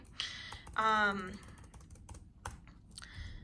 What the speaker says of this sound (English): I'm going to start with, let's say S, and then start typing.